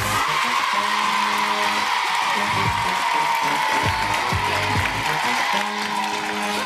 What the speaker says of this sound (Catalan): Un fort aplaudiment per la Cris, el Julen i la Nicola